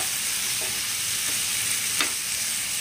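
Dried red chillies frying in hot oil for a coconut chutney, a dense continuous sizzle with faint scraping and stirring sounds throughout.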